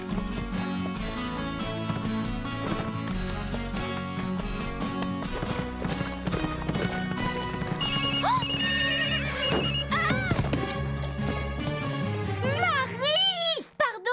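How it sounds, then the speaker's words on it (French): A loud, newly set phone ringtone blares in a cartoon about a horse ranch, a bright electronic melody that rings repeatedly over background music and voices. "J'ai programmé une nouvelle sonnerie pour Ambre. Et je ne savais pas qu'elle était aussi forte."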